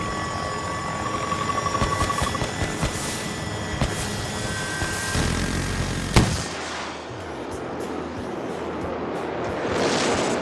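A helicopter in the Delta Force video game, a steady loud rotor roar and wash that fills the whole stretch, with scattered bursts and a sharp crack partway through.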